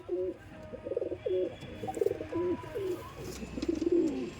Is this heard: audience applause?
no